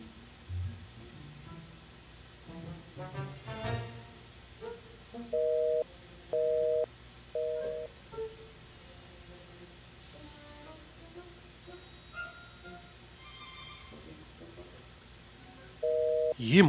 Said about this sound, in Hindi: ये मोनिका का फोन क्यों नहीं लग रहा है?